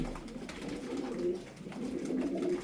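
Tippler sport pigeons cooing steadily, low rolling coos repeating in a continuous murmur at moderate distance, with no talk.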